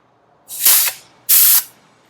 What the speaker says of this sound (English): with the hog ring gun, you're going to want to secure a ring every other square